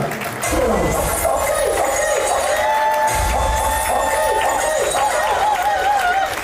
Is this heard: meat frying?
no